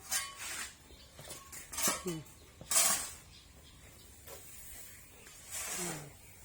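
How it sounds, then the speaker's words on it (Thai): A shovel scrapes and mixes potting soil with manure in a series of gritty, uneven scoops and scrapes, close by, with some talk in between. "ป้าผสมเลย เอาพลั่วผสมเลย"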